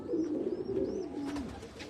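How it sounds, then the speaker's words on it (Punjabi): Dabb-marked breeder pigeons coo nearby in a low rolling murmur, with a faint high call above it and no talk. "ਇਹ ਡੱਬ ਵਾਲੇ ਕਬੂਤਰ"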